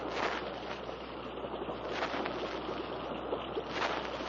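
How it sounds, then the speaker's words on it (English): A distant waterfall's steady broadband roar ahead on a jungle river, heard from a boat as a continuous, fairly faint wash of rushing water with no voices. "Sounds like a waterfall somewhere ahead."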